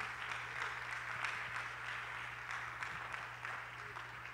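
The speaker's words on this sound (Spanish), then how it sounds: "Denle un aplauso al Señor Jesucristo." A church congregation at a Wednesday Bible study claps for Jesus Christ, a fairly faint, rhythmic group clapping held for several seconds over a steady low electrical hum in the room.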